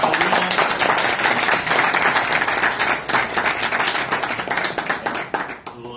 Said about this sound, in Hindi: आप सबकी तालियों के बीच